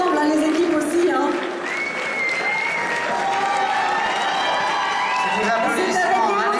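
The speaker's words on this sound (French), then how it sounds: "C'est des applaudissements" At an award ceremony for a cocktail-shaking competition, a crowd claps and cheers with scattered whoops, lively and close, while voices shout and talk over the applause.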